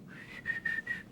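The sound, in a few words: person whistling casually, imitating someone pretending not to steal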